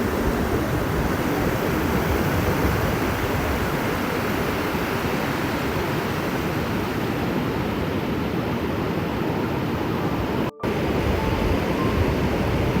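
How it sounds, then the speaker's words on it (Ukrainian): Atlantic ocean waves breaking on a sandy Portuguese beach on a sunny morning after rain, a continuous loud broadband roar of surf close by, steady throughout with a brief dropout near the end, no voices. "Нові хвилі,"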